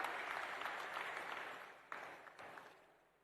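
An audience of about two thousand claps at an award ceremony in Pedne. The applause is faint and distant and fades away over a few seconds.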